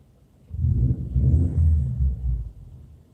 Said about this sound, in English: this would be that misfire the customer said he had